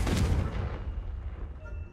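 A Confringo fire spell detonates in the video game Hogwarts Legacy, a heavy booming blast with a rumbling tail that fades over about two seconds.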